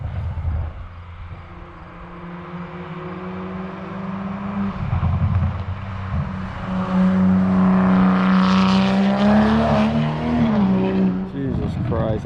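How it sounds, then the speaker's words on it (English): A Toyota Supra MK5 with a Tomei Type-R single exit exhaust rumbles with a deep, droning note from some distance, swelling louder as the revs climb and then easing off. "I don't even know if the camera will pick up the bass of the exhaust, but dude, it sounds insane"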